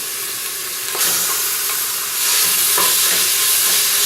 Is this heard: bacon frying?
yes